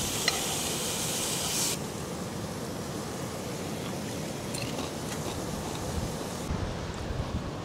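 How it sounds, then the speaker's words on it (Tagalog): Strong wind buffets a beach campsite, roaring steadily with gusty rumble and surf-like wash, loud and unbroken throughout with no voices. "Pero malakas pa rin ang hangin."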